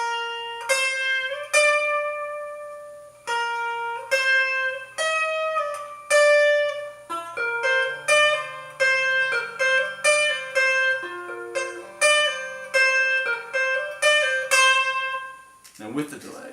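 An electric guitar riff, a string of clean plucked notes in a steady repeating rhythm, close and clear, ending in a brief noisy burst.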